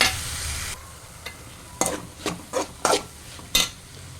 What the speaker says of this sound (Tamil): அரைச்சி வச்சுருக்க அரைப்பை சேர்த்து கிண்டி விடணும்